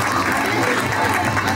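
An audience at a Ganesh festival game show claps in a dense, steady burst of applause, loud and close, lasting the whole short moment.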